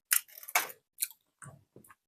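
Crunchy chewing of dried persimmon (hoshigaki), a run of close, crisp bites and chews in separate short bursts with pauses between, no talking.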